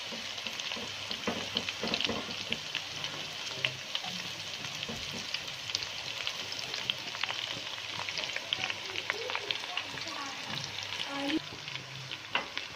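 Garlic and ginger paste frying in a pan with lightly browned onions for sarson ka saag with chicken gives a steady, close sizzle with occasional stirring scrapes, fairly quiet throughout.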